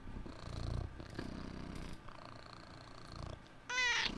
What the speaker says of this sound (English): Will you purr for the people?